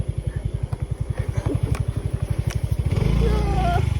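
A motorcycle engine putters in a rapid, regular chug, then revs up louder and smoother near the end.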